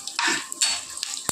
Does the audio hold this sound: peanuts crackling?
yes